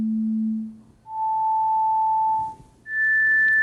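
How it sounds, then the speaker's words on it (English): Individual pure tones play in a basilar membrane animation: three steady sine tones in sequence, low, then middle, then high, each held for about a second, clean and alone with short gaps between them. "now see what happens when we play individual tones"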